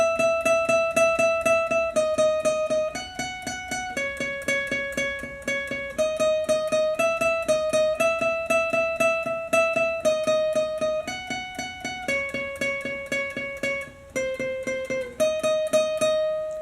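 A guitar picks out a repeating melodic riff, steady plucked notes in a quick rhythm, clean and close, with no voices.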